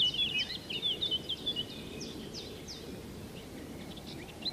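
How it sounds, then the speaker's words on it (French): Birds sing outdoors with a run of quick, high chirps and trills, fairly faint over a steady low background rumble, thinning out after the first few seconds. "écoutez le chant des oiseaux"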